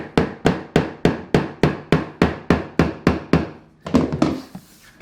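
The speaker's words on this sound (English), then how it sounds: "take our mallet, and don't put it on the tongue, put it on the seam itself" A mallet taps the seam of vinyl plank flooring into place with about eight steady, evenly spaced knocks, then a quicker cluster of softer taps and a rubbing scrape, close up with no talking.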